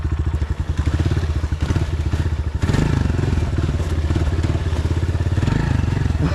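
A new Honda CRF125F dirt bike labours through deep terrain, its engine revving loud and close in a strained, fluctuating drone with clattering thumps from the ride.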